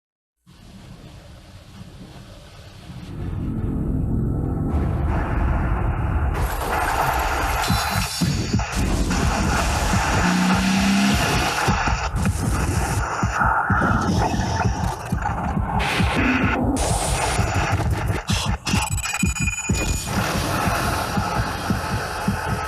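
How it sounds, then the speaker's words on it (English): A BMW Z4 Roadster engine, heard in a played advert, fades up to a loud, sustained rumbling roar with shifting revs and scattered mechanical noise, near and continuous. "BMW Z4 Roadster, the ultimate driving machine"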